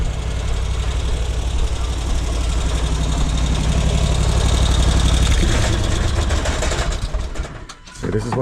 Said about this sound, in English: I'll turn off the engine